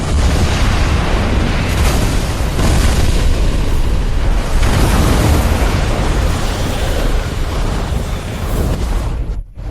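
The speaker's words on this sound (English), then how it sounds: "Volley fire." A battlefield volley of armor-piercing rounds fired at a cavalry formation, heard as a dense, loud, sustained roar of blasts and booms with no gaps, then a sudden cutoff at the end.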